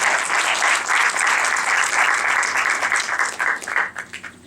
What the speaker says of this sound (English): but we'll applaud him anyway.